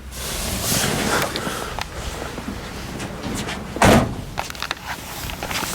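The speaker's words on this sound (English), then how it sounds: "Yeah, the door shuts great." A solid 1976 Trans Am door thunks shut once midway, with softer handling clatter and light rustling before and after.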